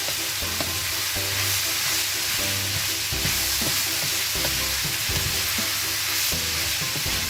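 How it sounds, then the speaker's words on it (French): Red onion frying in a pan with garlic for a tuna quiche, a steady loud sizzle over the whole stretch, broken by repeated scraping and stirring knocks. "Là, je vais rajouter l'oignon rouge"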